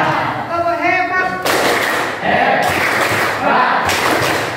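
A classroom of vocational school students claps out the 'tepuk hebat' chant, loud broadband bursts of rhythmic group clapping mixed with shouted chanting voices, following a short spoken lead-in.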